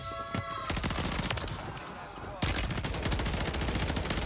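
Rapid automatic gunfire in a video game, fired through a wall, with fast rattling bursts, a brief drop near the middle, then a louder continuous stream of close shots.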